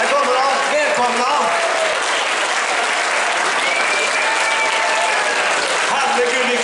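Sustained, roaring applause from a packed Kulturkalaset crowd in Gothenburg welcomes the dansband Larz Kristerz onstage, thick clapping mixed with cheers and a few shouted voices carrying on steadily throughout.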